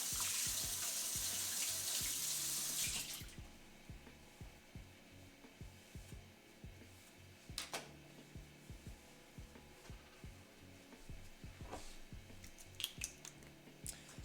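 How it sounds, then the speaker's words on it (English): A kitchen tap runs over a knife being washed, a steady rush of water for about three seconds, then stops, leaving soft clicks and handling sounds nearby. "I'm gonna go ahead and wash my knife real quick."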